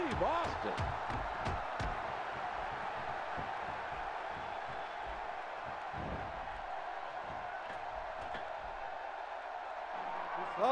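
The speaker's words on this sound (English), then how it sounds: "This crowd going crazy for Stone Cold Steve Austin" Roaring arena crowd noise from a WWE 2K16 steel cage match between Stone Cold Steve Austin and Mr. McMahon, a steady loud wash of cheering with sharp slam and impact hits throughout, under a commentator's voice.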